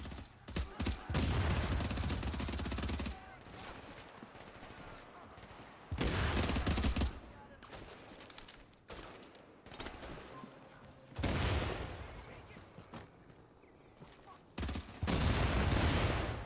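A video game turret fires in long, loud bursts of rapid shots with quieter gaps between volleys, and a voice talks faintly at times.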